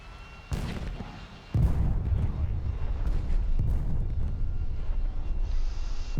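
Bombs falling and exploding in an A-10A flight game, with a series of heavy booms and sudden onsets swelling into a loud, sustained rumble over engine drone.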